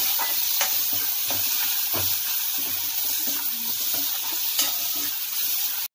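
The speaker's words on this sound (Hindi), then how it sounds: "थोड़ा सा नमक डालूंगी जो कि खिचड़ी में है, बिल्कुल थोड़ा सा डालूंगी ताकि टमाटर, प्याज और लहसुन" Tomato, onion and garlic masala frying in a pan for khichdi, a steady close sizzle with occasional stirring scrapes throughout.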